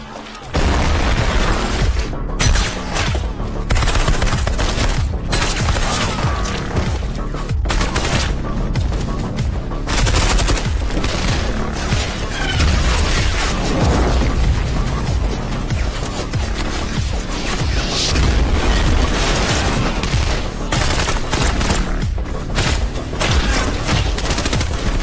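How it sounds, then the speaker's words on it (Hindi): Sustained heavy gunfire in a mountain forest battle, with snipers on a hilltop; dense rattling bursts and booming shots overlap loudly and continuously without pause, echoing. "गोली की आवाज पूरे पर्वत वन में गूंज उठी"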